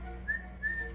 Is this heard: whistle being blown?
yes